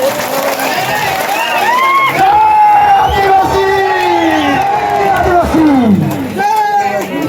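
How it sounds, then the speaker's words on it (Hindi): A welcoming crowd at a World Tribal Day gathering in Nandapur block roars with loud cheering and overlapping shouted voices, a dense, steady swell of excited noise throughout. "ताली मारी को स्वागत करवा"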